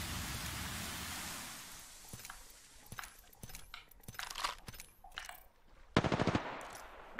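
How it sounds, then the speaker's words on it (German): Gunfire erupts in the video game Apex Legends, with scattered single shots followed by rapid automatic bursts, the loudest near the end, after a hiss of rain-like noise at the start. "Oh, schon wieder Schüsse,"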